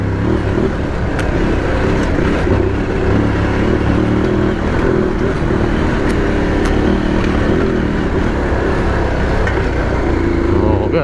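A loud Aprilia Tuareg 660 motorcycle engine chugs in a low gear on a rough off-road track, with steady wind buffeting over the rumble throughout.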